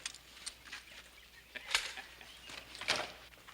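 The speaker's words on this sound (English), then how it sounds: "Got us a new hen, Paul." Soft, scattered hen clucks and scratchy rustling, faint and irregular, with a few louder bursts spaced a second or so apart.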